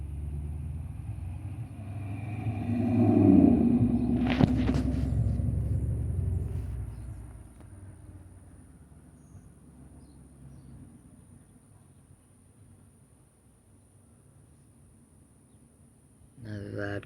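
A loud car passes along a street, its engine rumble swelling over the first few seconds and then fading off into quieter background noise, with a voice speaking.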